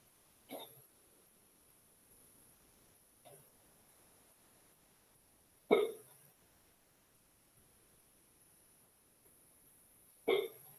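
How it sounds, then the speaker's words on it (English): Four sharp hiccups from one person indoors, well spaced and close to the mic, with quiet pauses between them. "Oh man, I got the hiccups."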